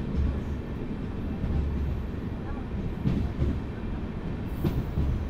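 The Swarnrekha Express, running with LHB coaches on the Dhanbad–Tatanagar route, gives a steady loud rumble with rhythmic clickety-clack over the rails and a faint wheel squeal, all heard from inside the moving train.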